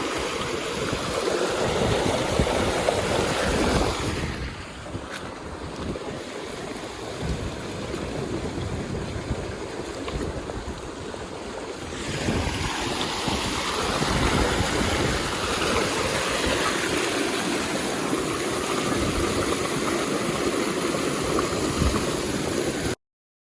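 Irrigation water gushes and splashes steadily into a wheat field nearby, a continuous rushing flow with a slight dip in intensity partway through, no voices.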